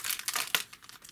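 Crinkly plastic packaging holding small sewing buttons is pulled open nearby, giving a short burst of sharp crackling and rustling with one louder crinkle in the middle.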